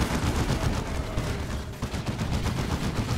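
Rapid turret fire in a Dawn of War 2: Retribution 1v1 match between Tyranids and Space Marines, dense and continuous automatic shots crackling steadily with battle noise for the whole stretch.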